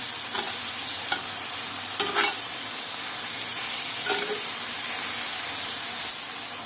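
Gongura leaves sautéed in a pan with rock salt, a dense, loud, hissing sizzle running throughout, with occasional light spatula scrapes rising above it, close and without speech.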